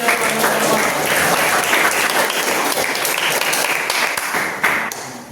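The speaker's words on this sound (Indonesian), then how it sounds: "Tepuk tangan untuk teman-teman kalian." A classroom of students gives their classmates sustained, dense applause, many hands clapping together loudly at close range before it tapers off slightly at the end.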